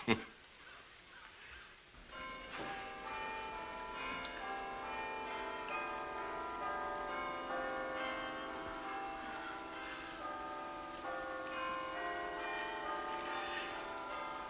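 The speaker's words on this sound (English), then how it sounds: "The bells. My husband used to love the bells. You can hear them so well from here." Church bells ring steadily and resonantly, overlapping peals sustaining a rich layered tone throughout, with a brief soft noise at the start.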